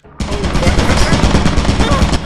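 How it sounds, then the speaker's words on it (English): Turret opening fire in the video game Lethal Company: after a short quiet moment, a loud, sustained stream of rapid machine-gun shots hammers on for about two seconds, close and harsh. "There was a turret. It blasted us both to bits."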